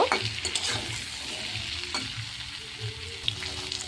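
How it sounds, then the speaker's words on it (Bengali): Drumstick vegetable pieces frying in a pan with salt and turmeric, a steady close sizzle with occasional stirring scrapes and small clinks, no talking. "আমি ভালোভাবে এটা একটু নুন আর একটু হলুদ দিয়ে ভেজে নেবো"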